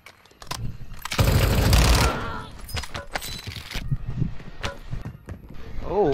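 Rapid automatic gunfire bursts in the Warzone 2 video game on Ashika Island, loud and close, with a sustained barrage followed by scattered shots and battle effects.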